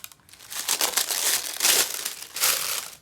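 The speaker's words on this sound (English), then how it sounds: "I don't want to talk while I'm opening this because it's so crinkly and noisy." Crinkly plastic packaging is torn open close by, a continuous loud crackling and rustling that swells and fades over a few seconds with no talking.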